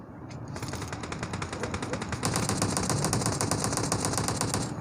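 Automatic gunfire in the PUBG Mobile battle game: long unbroken strings of rapid shots, loud and close, swelling heavier partway through with no pause.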